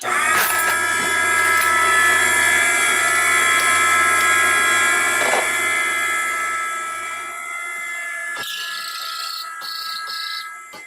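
A powered case trimmer cuts .308 rifle brass with a loud, steady high-pitched motor whine that drops and changes tone partway through, broken by metallic clicks and scraping, close and without speech.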